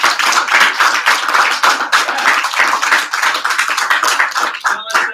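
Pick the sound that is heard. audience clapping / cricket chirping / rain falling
audience clapping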